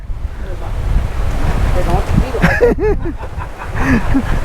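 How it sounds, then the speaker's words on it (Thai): Strong wind gusting across the summit of Doi Inthanon mountain near Chiang Mai, loud rushing roar buffeting the microphone, with faint voices mixed in. "ลมเย็นโคตร"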